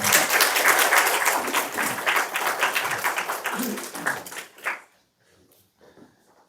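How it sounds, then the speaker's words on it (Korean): Congregational applause in a church during a Sunday service, a dense burst of many hands clapping for about four and a half seconds before stopping abruptly, leaving near silence with faint scattered sounds. "우리 박수 한번 하겠습니다"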